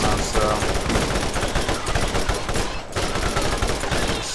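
Combat rifle gunfire in the Borderlands video game: loud, dense, continuous rapid-fire shots with a brief dip in the middle, heard close up.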